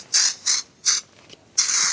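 A maple sap spout pulled from its tap sucks air in four short, sharp hissing gasps with brief pauses between them, close up and with no talking.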